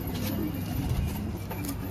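A green Maiduma dobaj pigeon with white eyes and a white tail coos softly in a low, steady murmur close by, alongside a constant background hum.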